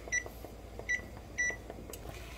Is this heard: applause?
no